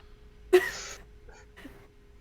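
A single short cough from a man, fairly faint and somewhat distant, followed by a softer second sound in a quiet room with a steady hum.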